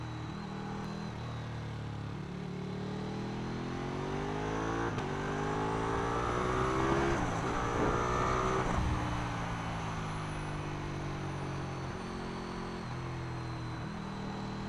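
A Ducati 1299 Panigale S motorcycle accelerating hard, its engine note climbing through the gears with rising and falling pitch sweeps, heard steadily from the rider's position with wind rush.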